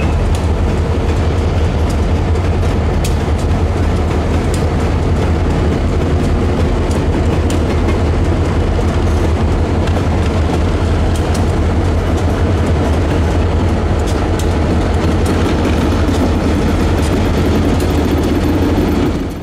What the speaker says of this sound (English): The four locomotives had pulled their train off RJC rails and were now shoving south on the connection track